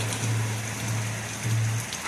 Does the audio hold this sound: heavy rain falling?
yes